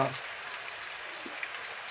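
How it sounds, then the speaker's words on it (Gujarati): Dal baati balls fry in hot oil with a steady, fine crackling sizzle that holds evenly throughout, close and moderately loud, with a few slightly sharper pops. "तो आपणे जो आ तेल में बाटी तळवानी शुरुआत करी है"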